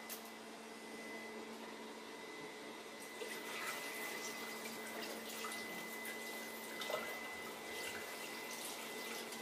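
Water running steadily into a Thermomix bowl while making molletes de Antequera dough, a continuous soft pouring wash with faint clatter, no talk over it.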